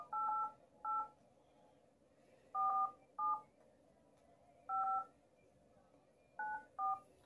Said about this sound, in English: I'm gonna dial it really quick and then I'll show you the number